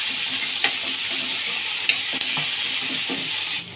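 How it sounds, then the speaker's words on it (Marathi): Cumin, garlic, ginger and tomato frying in hot oil for a village-style misal, a steady close sizzle with occasional stirring clinks and scrapes against the pan, no talk. "त्याच्यामध्ये थोडंसं जिरे टाकणार आहोत, लसूण, अद्रक, टोमॅटोही याच्यामध्ये आपण फ्राय करून घेणार आहोत."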